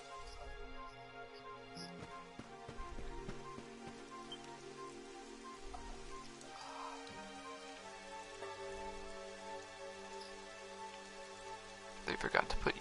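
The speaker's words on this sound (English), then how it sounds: "It would have to go and start raining, wouldn't it?" Steady rainfall from the video game Dragon Quest XI, a soft continuous patter with game music and ambient layers running throughout, and a brief louder burst near the end.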